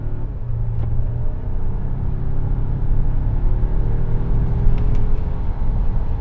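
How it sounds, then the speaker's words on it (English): The gasoline engine of a Volvo XC90 Recharge plug-in hybrid SUV accelerates at full throttle in a steady, rising rumble that holds close and strong through the run, with no talking. "Gasoline engine fires up, power to all 4 wheels, and let's just mat it and see what happens."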